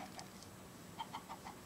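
Chicken clucking from a video game, a few short faint clucks spaced across a quiet moment, mostly near the end.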